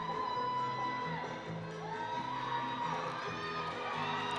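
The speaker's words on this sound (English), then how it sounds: "The crowd is getting into it" A large gymnastics crowd at a college meet, Illinois at Nebraska, cheers and whoops in a steady, loud roar with shouts rising over it, broad and reverberant throughout.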